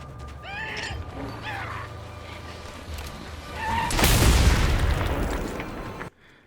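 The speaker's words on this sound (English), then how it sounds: "Max's shotgun sounds like a life-shattering cannon" Max's shotgun in the Mad Max video game fires one heavy, booming blast that rolls into a long rumbling decay, preceded by scattered squealing game sounds.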